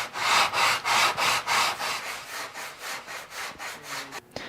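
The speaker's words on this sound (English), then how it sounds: "These little bits and pieces of remaining covering material can be removed simply by sanding them with either 320 or 220 grit sandpaper." Sandpaper of 220 or 320 grit rubs leftover covering material off a model airplane in a steady series of about a dozen close, rhythmic back-and-forth strokes.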